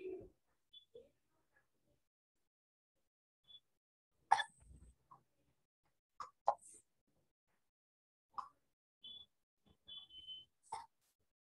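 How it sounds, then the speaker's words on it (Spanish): Short, abrupt hiccup-like bursts, several spread irregularly through a quiet second-grade classroom, close and moderately loud with long silences between them. "¿quién le dio hipo por ahí?"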